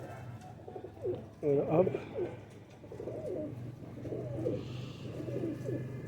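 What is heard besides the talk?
pigeons cooing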